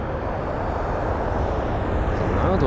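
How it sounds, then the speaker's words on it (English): An American Airlines Boeing 777 jet at London Heathrow roars steadily and loudly throughout, a dense, unbroken engine rumble with a faint rising whine near the end. "Back onto the American jet, the 777."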